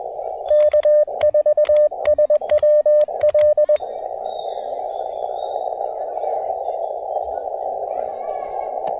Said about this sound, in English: I use Morse code too.